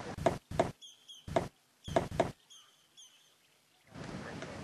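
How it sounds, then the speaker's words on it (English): Woodpecker hammering on a tree trunk in loud, close bursts of rapid knocks in pairs, with bird chirps between them and a rustling noise at the end. "Woodpeckers always attract attention with their bright colors and loud knock-knock-knocking"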